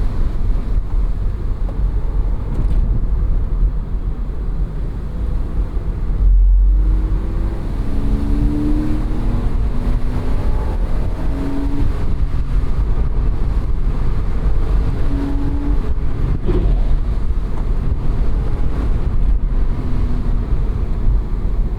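First-generation Porsche Boxster flat-six engine revving up toward redline on a canyon road, a steady loud drone rising in pitch with wind buffeting the microphone, no voices.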